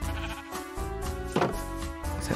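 A sheep bleats in the Minecraft video game, a single wavering cry near the middle rising out of steady background game music, fairly close and clear.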